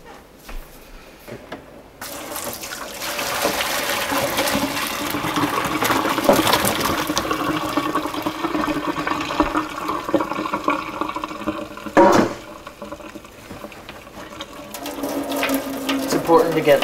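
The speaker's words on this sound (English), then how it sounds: "Now that the potatoes have come to tenderness, we can now drain them." Boiled potatoes drained in a kitchen, water gushing and splashing steadily into a sink for about fourteen seconds, loud and close.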